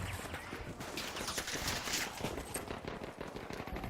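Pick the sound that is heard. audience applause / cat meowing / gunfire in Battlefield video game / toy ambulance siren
gunfire in Battlefield video game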